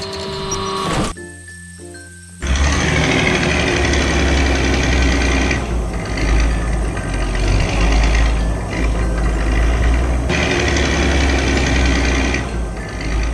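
Construction machines working on a damaged road in an animated farm-building cartoon make a loud, steady mechanical engine drone with rattling, knocking texture, kicking in after a brief quieter ringing passage and running continuously.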